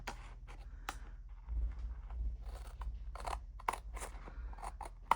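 Scissors cut paper for a craft project in a series of quiet, irregular snips and crisp crunches, close by with no talk.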